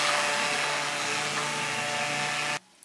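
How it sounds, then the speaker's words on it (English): A blender whirs steadily as it purées a kadhi mixture with five cups of water, a loud continuous motor drone that cuts off abruptly near the end, leaving near silence. "I added 5 cups of water and I'm going to blend it now."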